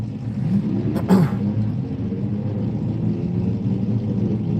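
Steady roar of race car engines on a track, with one car surging louder as it passes close by before the drone settles back.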